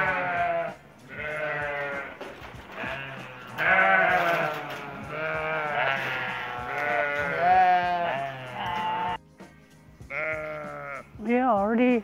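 Sheep and goats bleat during mating season after the males are put in with the females, giving a run of loud, wavering calls that overlap almost nonstop with only brief gaps.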